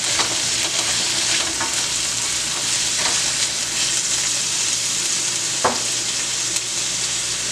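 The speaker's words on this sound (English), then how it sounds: "after sauteing my onions for a few minutes, guys, I'm getting my red peppers" Onions and red peppers sauté in a pan with a loud, steady hiss of frying, broken by a few soft stirring scrapes and one sharper utensil tap.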